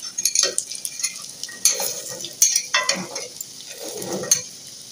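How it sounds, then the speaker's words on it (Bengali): Cauliflower fritters frying in a wok, with soft sizzling under repeated metal scrapes and clinks of a spoon stirring against the pan, close and moderately loud. "ফুলকপির বড়া করছে আমার বাবা।"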